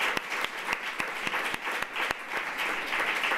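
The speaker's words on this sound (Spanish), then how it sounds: "yo le quiero dar un aplauso" An audience applauds Carmeta Morán during a talk on the televised social revolution, a steady wash of many hands clapping with a few sharper claps standing out, moderately loud and continuous throughout, with no voices.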